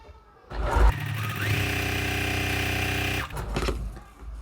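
Sewing machine chain piecing fabric pieces for a Wagon Tracks quilt block, a steady rapid motor-driven stitching hum lasting a few seconds, close and loud, with brief handling noises before and after.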